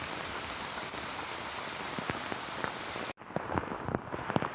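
Heavy rain pours down steadily outdoors during flooding, a dense constant hiss with scattered heavier drops tapping nearby, cutting briefly before resuming slightly muffled.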